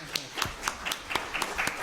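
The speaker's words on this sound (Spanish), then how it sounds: "El aplauso no era necesario" At a university seminar, an audience claps briefly after a speaker is introduced. The claps come as a short, fairly regular series of sharp hand strikes at moderate volume.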